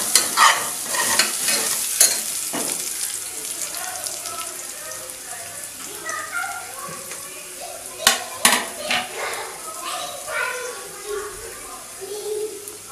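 Poppy seeds frying in a little oil in a pan for a Madurai-style mutton keema dish, with repeated scraping stir strokes and clinks of a spoon against the pan over a soft crackling sizzle, close and fairly loud.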